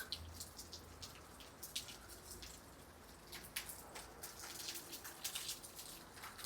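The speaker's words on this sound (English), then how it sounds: "I love hearing the rain drip off the eave of the house." Soft, irregular drips of rainwater fall off a house eave close by over a quiet outdoor background, with scattered taps and splashes.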